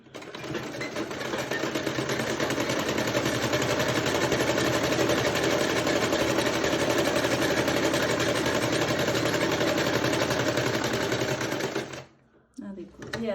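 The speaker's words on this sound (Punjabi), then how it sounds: "ਹੁਣ ਆਪਾਂ ਸਲਾਈ ਆ ਜਿਹੜੀ ਉਹ ਲਾਵਾਂਗੇ" A sewing machine runs continuously and loud, stitching a straight salwar for a Punjabi suit with a steady whirring rhythm before stopping abruptly near the end.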